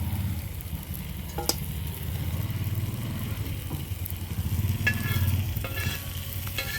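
Fish sizzling and frying in a pan while being cooked, a steady continuous crackle with occasional sharper pops and spatters, close and moderately loud with no talking.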